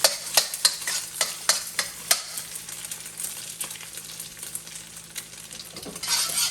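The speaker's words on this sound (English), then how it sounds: "And then kind of fold it around, and you're just really frying the egg." Egg fries and is stirred in a hot wok for pork and shrimp fried rice: a steady sizzle under a run of sharp, rhythmic scrapes and clacks from the spatula, close up and without talk.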